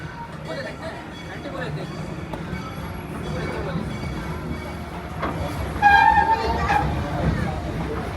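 A ride train pulls into a station at an amusement park, rolling along with rumbling wheels and a brief squeal or horn-like tone, while a voice talks over it.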